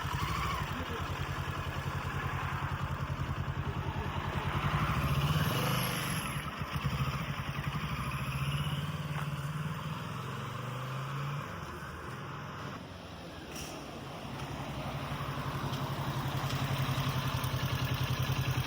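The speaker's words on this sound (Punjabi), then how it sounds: "ਸਾਢੇ 600 ਸੀਸੀ ਮੋਟਰਸਾਈਕਲ ਮਿੱਤਰੋ ਹੁਣ ਦੇਖੋ ਜਾਂਦਾ ਕਿਵੇਂ ਹੋ ਹੈ" A 650cc motorcycle runs steadily throughout, its engine drone holding at a constant moderate loudness with a brief shift in tone midway, and no voices over it.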